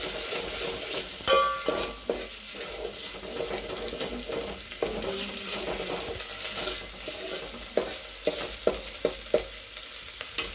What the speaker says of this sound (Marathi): हा मसाला व्यवस्थित तेलामध्ये परतून घेऊयात